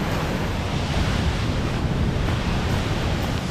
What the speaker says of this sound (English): With this waterfall noise, who knows how that's gonna go.